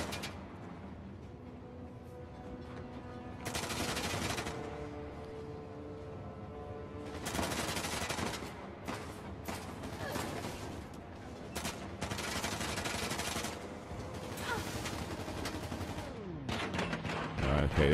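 Gunfire in a firefight in Uncharted: The Lost Legacy, coming in repeated loud bursts and volleys over a steady bed of game music and ambience.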